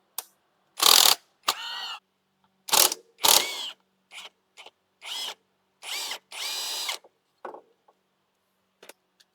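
A ratchet tool spins out a 12 mm bolt from the rear brake of a Honda Forza 350 scooter in a string of short, sharp, close bursts of clicking and whirring separated by brief silences.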